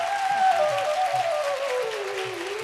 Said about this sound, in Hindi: मैं चाहूँगा इनके लिए भी एक बार ताली बजाएं।